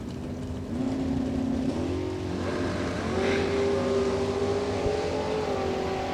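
A Camaro and a pickup truck square off in a drag race, loud engines droning and climbing in pitch as they accelerate hard, a steady roar that holds for several seconds without a pause.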